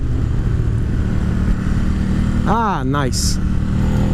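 An Aprilia Caponord motorcycle engine holds a steady drone at about 4,000 rpm while riding on the highway, a constant mid-pitched hum with wind noise. A rider briefly speaks over it.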